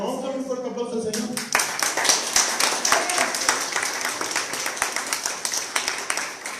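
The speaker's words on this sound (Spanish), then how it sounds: "Vamos a darle un fuerte aplauso al Señor." A church congregation breaks into clapping after a voice speaks over music, the applause entering abruptly and continuing in quick, rhythmic claps for several seconds.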